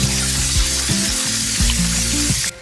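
A pot of water boiling on a stovetop before potatoes go in for pressure canning, giving a steady close bubbling sizzle with faint low tones underneath that cuts off near the end.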